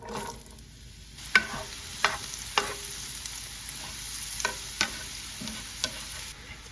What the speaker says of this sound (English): I have a skillet, a couple tablespoons of butter, and I'm gonna go ahead and add the mushrooms that I chopped up and cook those for a few minutes.